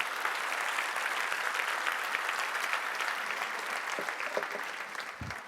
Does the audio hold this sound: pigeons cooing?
no